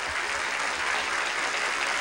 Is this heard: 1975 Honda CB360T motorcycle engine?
no